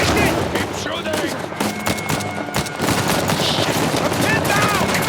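Rapid gunfire in the Uncharted 4 video game, dense sustained automatic bursts and shots layered over a loud, cluttered battle scene, with voices calling out during the fighting.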